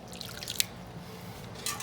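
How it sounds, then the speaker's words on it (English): Hot water at 175 degrees is poured from a ladle onto fresh mozzarella curds, giving soft drips and a brief trickling splash near the end, close and fairly quiet. "I'm going to throw in another ladle of that's 175 degree water just to melt these a little bit."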